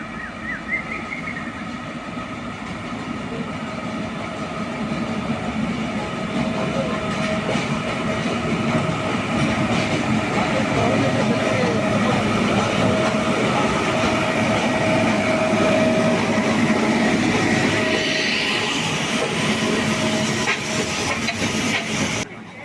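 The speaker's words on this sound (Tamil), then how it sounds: "ஊட்டி மலை ரயில் வரதை பாரு." The Ooty mountain railway train rumbles past steadily with hissing and rattling wheels, the noise swelling and holding for a long stretch before dropping away at the end.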